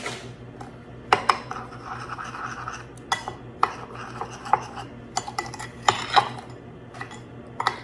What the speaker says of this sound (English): So let's get mixing